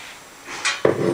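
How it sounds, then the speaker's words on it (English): Peeled pumpkin chunks are dropped into a large pot for a pumpkin sweet dessert, giving a brief hard clatter and thud against the pot after a soft shuffling lead-in. "Clean the seeds inside and peel the pumpkin chunks. Place them in a large pot"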